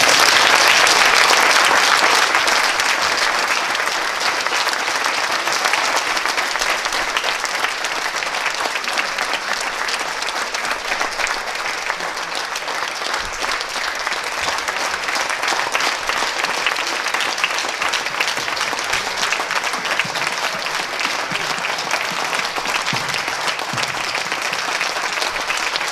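Sustained, loud applause from a theatre audience welcoming actress Milena Zupančič onto the stage at a film festival in Brežice, a dense clapping wash that holds steady throughout.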